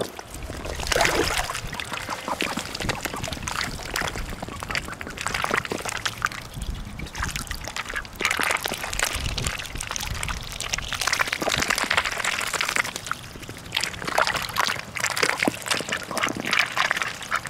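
Pet ducks splash and slosh in their water dish, with steady wet splashing and trickling up close and bursts of louder flapping through the whole stretch.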